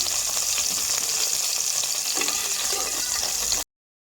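Pointed gourds fry in darkened oil with a loud, even, crackling sizzle that holds steady for a few seconds and then cuts off abruptly into silence.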